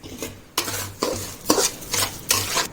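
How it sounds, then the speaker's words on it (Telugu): Sambar onions frying in hot oil in a pan, stirred in repeated bursts roughly every half second to second, with a steady close sizzle between the scraping strokes and no talking. "ఇవి కూడా నూనెలోన బాగా వేగాలి"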